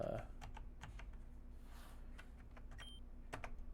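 Computer keyboard keys clack in quick irregular bursts while someone plays Pokemon Uranium, close and distinct taps over a low steady hum, with faint background sound.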